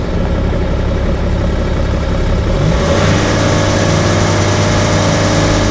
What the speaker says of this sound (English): Vehicle's revving quite high right now.